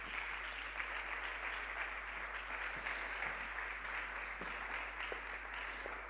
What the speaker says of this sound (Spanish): me gusta un fuerte aplauso